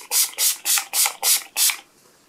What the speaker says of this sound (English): setting spray, oil control